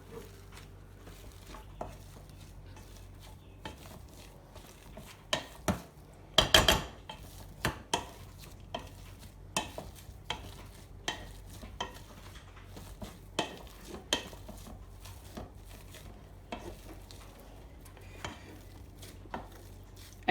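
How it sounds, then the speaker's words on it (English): Cooked potatoes for a shepherd's pie being mashed in a pot, with irregular soft thuds and scraping knocks of the masher against the pan, a few louder clanks near the middle, steady and close with no talking. "if your potatoes are nice and tender, they should mash like this fairly easily"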